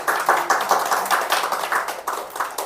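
A church congregation claps together during a Sunday sermon, loud rhythmic group clapping with a steady beat throughout, no talking over it.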